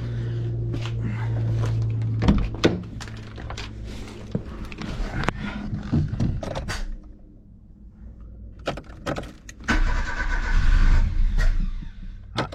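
A Peugeot 309 GR that has sat unused for 20 years cranks with clunks and sputters before its engine catches and runs roughly near the end, heard up close.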